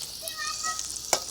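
An omelette frying in a pan as turmeric is added, giving a steady close sizzle with light stirring scrapes and one sharp clack near the end.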